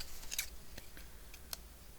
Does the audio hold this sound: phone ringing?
no